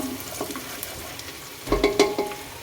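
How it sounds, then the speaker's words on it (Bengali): Onions and chillies frying in mustard oil in a home kitchen, giving a low, steady sizzle with soft stirring clatter that grows a little louder near the end. "আমি এখানে পেঁয়াজ মরিচ কষাইতেছি"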